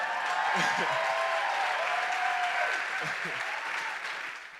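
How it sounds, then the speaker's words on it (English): A crowd at a real estate talk gives the speaker's wife a round of applause, a dense burst of clapping under some cheering voices that gradually thins toward the end. "give my wife a round of applause"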